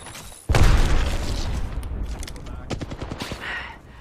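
Video game combat: a sudden loud blast followed by rapid bursts of gunfire and clattering shots, loud and close, with scattered sharp reports trailing off toward the end.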